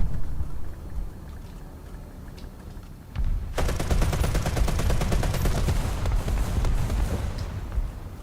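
Aircraft guns in War Thunder open up in a sudden, sustained rapid burst of loud gunfire lasting several seconds, after a stretch of engine drone.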